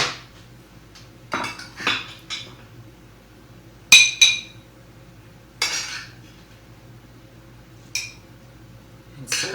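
Butternut squash and sweet potato hash with bacon is served onto a plate: scattered clinks and scrapes of a utensil against the plate and pan, spaced apart over a quiet background.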